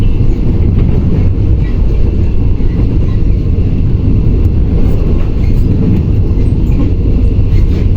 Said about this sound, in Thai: ขบวน 38และขบวน 46กำลังจะทำขบวนผ่านสถานีบ้านซ่องนะครับ